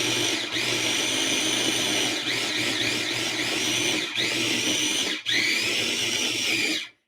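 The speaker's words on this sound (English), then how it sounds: "I'm just using a food processor." A food processor whips coconut butter, whirring loudly and steadily, its motor pitch wavering as the blades spin, with brief dips and a sharp stop near the end.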